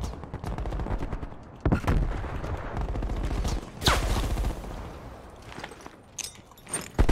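Gunfire from the Black Ops Cold War video game: dense automatic bursts with several sharp, loud single shots and clattering footsteps, continuous and close throughout.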